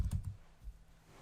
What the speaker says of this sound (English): Or I can just start typing it.